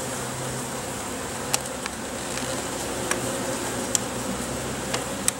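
A queen bee gives short, sharp pipes at intervals, about six brief chirps standing out above a dense, continuous hum of worker bees crowding around her.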